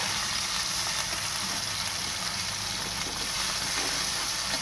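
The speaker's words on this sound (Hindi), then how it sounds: "तो देखिए इसकी भी हमने अच्छे तरीके से भुनाई कर लेनी है प्याज के साथ साथ।" Sliced onions frying with ginger garlic paste in a pan, a steady close sizzle and hiss that runs evenly throughout with no voices.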